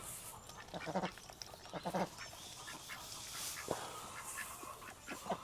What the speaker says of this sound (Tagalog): Dito po naliligo ang ating mga alagang pato.